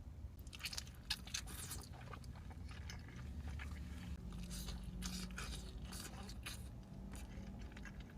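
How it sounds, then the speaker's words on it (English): Close mukbang eating of asada tacos and a stuffed potato with asada and adobada: wet chewing, bites and soft crunches follow one another steadily and sit very near the mic, with no talking over them. "Tacos mukbang."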